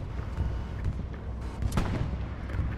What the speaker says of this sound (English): Enemy bombing run, take cover.